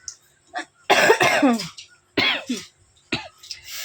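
Several harsh, wet coughs in separate bursts, close up, with short pauses between them and some throat clearing.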